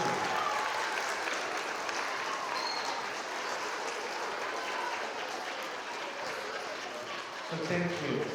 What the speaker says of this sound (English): Big round of applause for Senator Hudson.